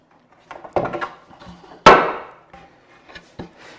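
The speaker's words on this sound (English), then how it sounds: "what I'm actually cutting here are stopped sliding dovetails" Hand tools working wood to cut stopped sliding dovetails in a board, a series of irregular knocks and scrapes close by, with one sharp, louder strike near the middle and quieter taps around it.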